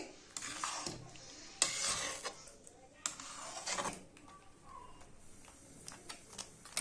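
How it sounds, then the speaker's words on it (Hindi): Chicken being stirred into a spice paste in a pan for butter chicken, with intermittent scraping and clinking of a spoon against metal, a few louder strokes in bursts, close and clear. "हमने जो पेस्ट डाला है उसके साथ चिकन को अच्छे से मिक्स कर लेंगे।"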